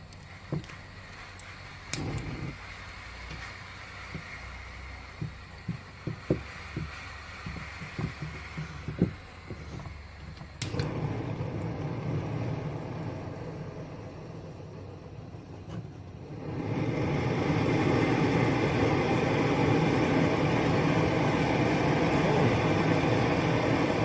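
MSR XGK EX liquid-fuel camping stove fitted with a damper, burning steadily with a broad roaring hiss that swells louder partway through, with a few faint clicks early on.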